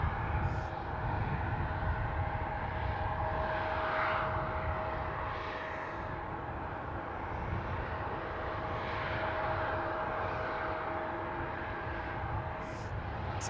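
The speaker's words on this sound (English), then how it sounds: "We've got a bunch of aircraft which are approaching the runway." Airliners approaching the runway at Manchester Airport give a steady distant engine drone with a faint whine, continuous and fairly quiet for over thirteen seconds, with no clear talk over it.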